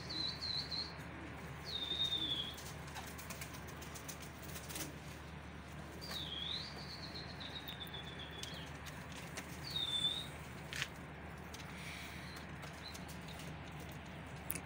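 Birds chirp and call faintly outdoors, with a few thin whistled calls spaced apart over a quiet, low rumbling background.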